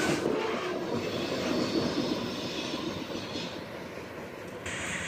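A CSX freight train led by a GE locomotive rolls past at Woodbine on the old main line, producing a steady, loud rumble of wheels and cars with continuous broadband rail noise and a faint squeal near the end.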